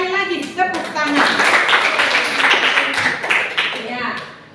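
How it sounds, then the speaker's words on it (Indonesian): A classroom of students claps hands together in a loud, sustained round of applause, with voices mixed in underneath. "Sekali lagi tepuk tangan."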